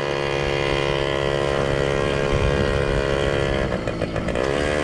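A 1995 Yamaha PW 50 mini dirt bike runs its small two-stroke engine at a steady, loud, buzzing idle, held close and continuous with a slight pitch shift near the end and no talking.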